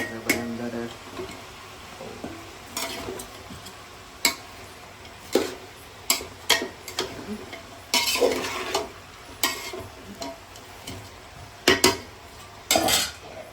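Tomatoes and salt tipped into a cooking pot, with scattered clanks of a spoon against the pot and soft sizzling stirring in between, close by, some irregular and louder bursts.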